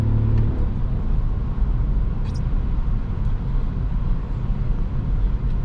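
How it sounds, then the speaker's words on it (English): Toyota Yaris hybrid, 2021, 116 HP, accelerating hard at night from inside the cabin: a steady, loud broadband engine and road rumble that holds through the whole stretch, with no talk over it. "Let's kick the throttle."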